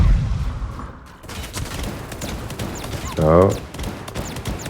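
Little exploding bots going off in the mecha battle game Super Mecha Champions, a scatter of sharp popping blasts mixed with other game noise, with a player talking briefly over it.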